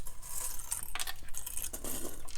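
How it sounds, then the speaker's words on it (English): Small scissors snipping sewing threads after a zipper tape is stitched to a bag, with a few quick faint clicks and metallic ticks close by over soft background noise. "Now I'm going to trim my threads"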